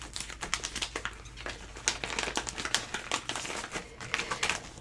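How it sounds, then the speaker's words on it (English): Crafting die, Blessings of Spring design, being run through a cutting machine for a handmade card: a steady run of rapid crinkling, clicking and crackling, close and continuous, with no talk. "Got some die cutting to do"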